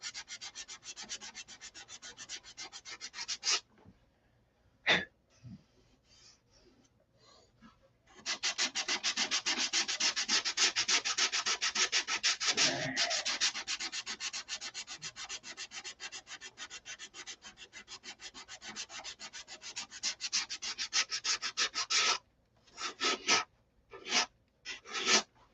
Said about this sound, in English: How to sand to the tape line or body line.